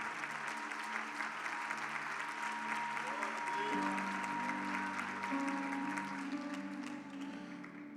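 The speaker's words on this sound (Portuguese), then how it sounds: "Aplauda o nome do Senhor." A church conference congregation claps in sustained applause that holds steady for several seconds alongside music and voices, then eases slightly at the end.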